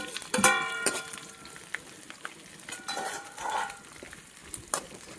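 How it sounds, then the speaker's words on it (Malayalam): Dried red chillies frying in a pan before drumstick leaves go in for a chutney, a quiet sizzle under close clinks and scrapes of a spoon stirring against the metal, with no speech. "നമ്മുടെ വട്ടൽമുളകൊക്കെ നന്നായിട്ട് ഇതേപോലെ ഫ്രൈ ആയി മൂത്ത് വന്നിട്ടുണ്ട്"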